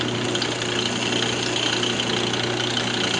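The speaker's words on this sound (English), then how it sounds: "Just going to use a spindle gouge." Spindle gouge cutting a wooden speaker box on a running woodturning lathe, a steady close whirring drone with a constant hum and no pauses, with no talking.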